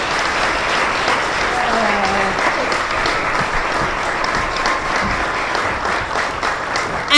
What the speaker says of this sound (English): Can we have another round of applause for Rasidatri?